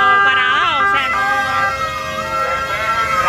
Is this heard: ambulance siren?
yes